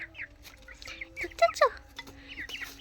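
Twenty-one-day-old chicks, including young cockerels, give short, faint peeps and soft clucks in scattered bursts at close range, with a quiet voice in the background.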